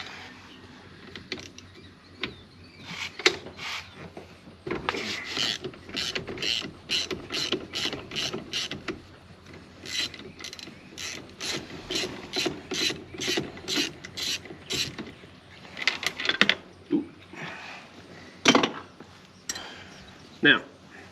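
Rapid bursts of ratchet clicking as a T50 Torx bit works a steering wheel bolt on a 1994–2004 Mustang, several separate runs of close, crisp pawl ticks with short pauses between them.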